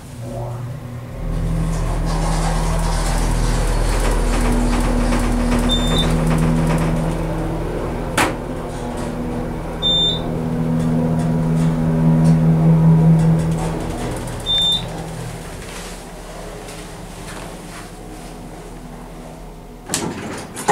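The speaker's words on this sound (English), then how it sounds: "That motor was amazing. Dry powered motor." A Dover hydraulic elevator's dry-type motor runs loud and steady in a parking garage, giving a droning hum with a tonal whine that later eases off, plus a few brief clicks and a thump at the end.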